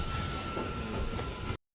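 Tirumala Express passenger train running steadily, a continuous loud rumble of rolling wheels and carriage noise with a faint high squeal throughout, heard from close by before cutting off abruptly.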